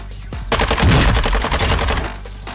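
Rapid automatic gunfire from the Warzone 2 video game, a dense burst of sharp, loud shots rattling continuously for about two seconds with no talk over it.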